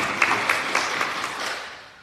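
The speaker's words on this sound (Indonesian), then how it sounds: "Beri tepuk tangan dulu yang lebih baik." A church congregation clapping, a short burst of many hands with a few sharper claps near the start, loud and close, then fading away within two seconds.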